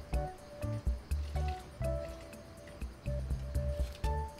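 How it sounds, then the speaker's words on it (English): Liquor pours into a homemade eggnog mixture, giving soft, close squishy glugs and drips in uneven short bursts with pauses between. "Add 60 ml of either rum,"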